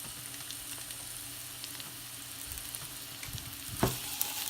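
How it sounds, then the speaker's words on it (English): Mushrooms cooking in olive oil in a pan, a steady low sizzle running throughout with a brief louder crackle near the end, close and unaccompanied by speech. "Gonna start with our mushrooms because they're gonna cook a lot faster"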